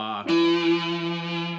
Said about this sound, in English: distortion feedback.